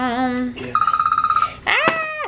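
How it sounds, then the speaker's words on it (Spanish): A telephone rings with a rapid pulsing electronic trill in the middle of a short stretch, between wailing, moaning sounds and a voice, fairly close and clear. "Teléfono."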